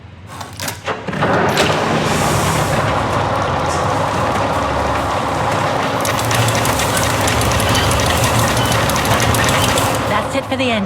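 A key-activated machine engine in the Syberia: The World Before video game starts with a burst and then settles into a steady, loud mechanical rumble and whir with faint clanking, running continuously to the end.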